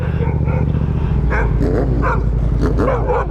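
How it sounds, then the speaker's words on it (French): A dog barks loudly and close by in quick, repeated bursts over a constant rumble from a motorbike on a street in Lille. "le chien qui va nous attaquer parce qu'on est en costume de Père Noël ou pas?"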